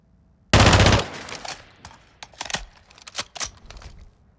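The FR Avancer rifle in a video game fires a dense, loud burst of automatic shots, then several shorter bursts and single cracks echo close and sharp with no speech.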